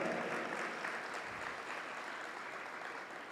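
Steady applause from an audience at a poetry event, a dense patter of clapping held at an even level throughout.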